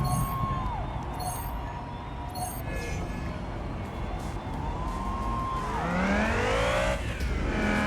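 A race car in the Wilder World street racing game drives the Lunar Lane course, its engine droning steadily and then rising in pitch as it accelerates through shifts, with tire squeal and background game sound.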